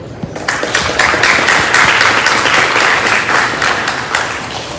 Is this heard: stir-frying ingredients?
no